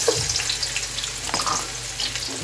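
Carrots and potatoes fry in hot cooking oil with a continuous, dense sizzle and crackle, close and steady throughout, with no talking.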